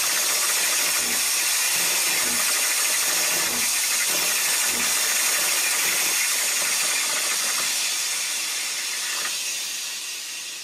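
A Breville Bambino espresso machine's steam wand gives a loud, continuous broadband hiss with a few low sputtering pulses early on, then fades slightly near the end.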